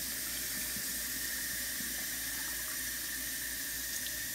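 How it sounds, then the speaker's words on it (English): Water runs steadily from a tap to fill a Fisher-Price baby bathtub, a continuous even hiss and splash throughout with no talking. "Fill in the tub."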